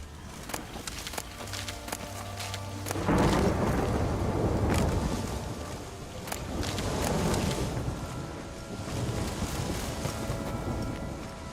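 Thunder and rain in The Witcher 3, a broad rumbling wash of rainfall swelling after a few seconds and holding steady, with low thunder rolling underneath and faint game sounds over the top.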